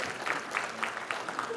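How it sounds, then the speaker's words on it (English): A church congregation claps for graduates in a brief, quiet burst of scattered applause, with a voice underneath. "Yeah, give them a round of applause."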